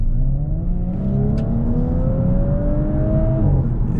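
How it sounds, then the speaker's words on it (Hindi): An Audi S5 accelerates hard, its engine and exhaust note climbing steadily in pitch through a gear, loud and close from inside or beside the car, with no talk over it. "इस गाड़ी का exhaust note is just so awesome"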